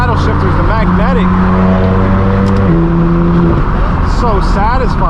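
A straight-piped BMW M4 F82 blasts its loud exhaust on a hypercar rally drive, heard from inside the car. The engine drone rises and falls through quick paddle-shifted gear changes.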